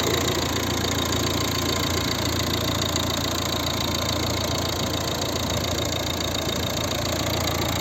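A 2011 Volvo V60 1.6 HDi diesel engine idles close by, a continuous low rumble with a faint knocking texture and no talking.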